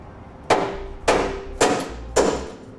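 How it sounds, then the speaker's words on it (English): Four sharp, evenly spaced metallic hammer blows ring out as bumper bolts are tapped loose on a Westin Fey Surestep rear bumper, each strike loud and close with a short decaying ring. "We'll go ahead and hold the bumper while we tap out the bolts on each side."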